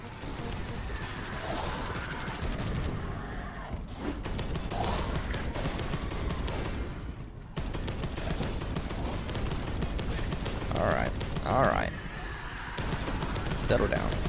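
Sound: gunfire in the video game Space Hulk: Deathwing

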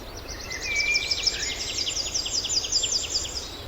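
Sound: birds singing outdoors

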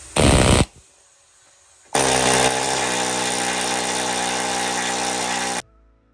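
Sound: needle gun removing rust and paint from a trailer

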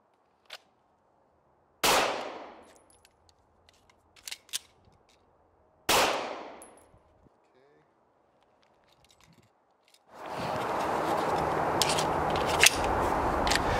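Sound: gunshots and magazine reload, PSA Dagger pistol

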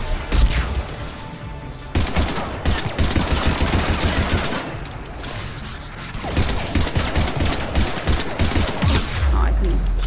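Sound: gunfire in the video game Mass Effect 3

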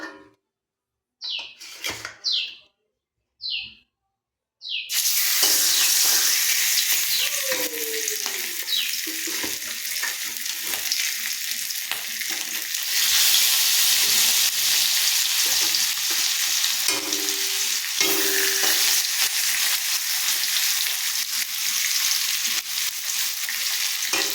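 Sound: fish frying in oil in a pan

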